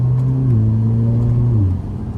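Alfa Romeo Giulia engine revving under a GoPedal throttle, a loud close steady engine drone that holds, steps down in pitch, then drops off near the end, no speech.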